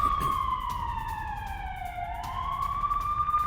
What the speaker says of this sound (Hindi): यूक्रेन के कई शहरों में बज रहे हैं अलर्ट सायरन